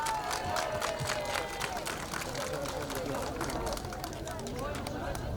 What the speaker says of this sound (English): Can we have another round of applause for Supervisor Pine?